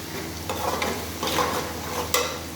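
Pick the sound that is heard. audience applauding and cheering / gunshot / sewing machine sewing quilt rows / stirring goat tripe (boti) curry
stirring goat tripe (boti) curry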